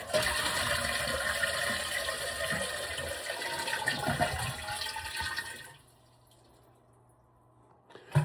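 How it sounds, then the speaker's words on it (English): A toilet flushes loudly, water rushing and swirling for several seconds before draining away into near silence, with a faint refill hiss after. "now we're gonna flush the toilet"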